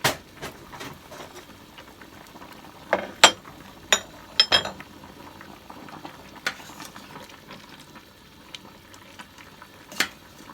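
Thai sour curry (gaeng som) boils steadily in a pot, a low continuous bubbling simmer with a few sharper pops and clicks scattered throughout, close by and with no talking.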